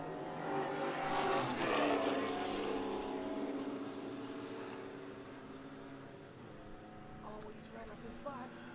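Group 4 race cars roar past a trackside vantage point during the 2014 O'Reilly Auto Parts Grand Prix, engines swelling loud and then fading, with a commentator talking over the noise.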